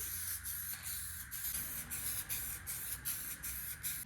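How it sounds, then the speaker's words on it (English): Short bursts of guide coat spray hiss out of a can in a loose, repeated rhythm, close by, with no talking, during auto body work. "spray that guide coat"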